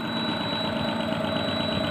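A DC motor runs steadily under two-quadrant DC chopper speed control at about 500 rpm, humming close and even with a sharp constant high whine from the switching, and no speech.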